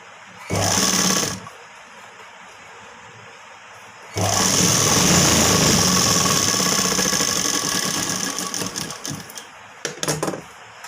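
A sewing machine stitches a boat-neck blouse front, one short burst of rapid whirring, a pause, then a long steady run that trails off into a few stop-start bursts.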